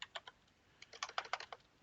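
Fingers tap on a computer keyboard, a close run of quick, crisp keystrokes in two short bursts with a brief pause between them.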